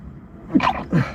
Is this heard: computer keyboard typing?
no